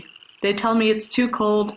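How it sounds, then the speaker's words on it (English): A frog croaks loudly outside a window in spring, with repeated harmonic croaks in close bursts while a person speaks over it. "There's a frog outside my window."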